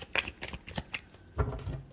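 Tarot cards are shuffled by hand, giving a quick run of crisp riffling flicks and soft slaps, close and fairly quiet, with a heavier thud near the end.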